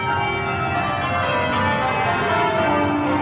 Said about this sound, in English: the sound of Bow Bells tells me that I'm in the wrong studio